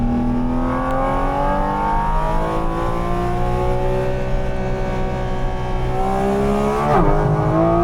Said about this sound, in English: very loud lap because GT4 RS.